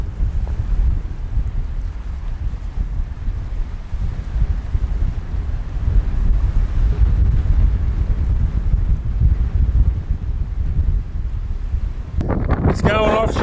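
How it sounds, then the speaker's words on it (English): Strong wind roars continuously on an exposed coastline while fishing for flathead from land, a loud, steady gusting rush buffeting the microphone with surf beneath. "The wind is furious."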